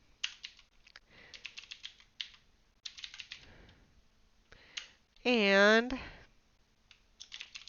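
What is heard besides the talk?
typing on a computer keyboard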